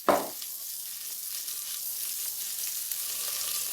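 Three chopped onions and three garlic cloves hit hot fat in a cooking pot with a sudden sharp hiss, settling into a steady, close sizzle that continues evenly.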